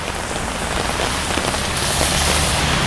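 Steady rain falling on a walk through Tokyo, a dense continuous patter of drops on surfaces that swells slightly louder toward the end, with no voices.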